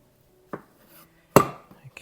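A knife cutting a loaf of 50% rye sourdough in half, two crisp close chopping thuds a moment apart, the second louder, with no talk.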